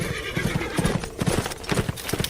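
A horse in the video game A Blind Legend, close rhythmic hoof clip-clops on hard ground with a whinny, loud and clear with no speech over it.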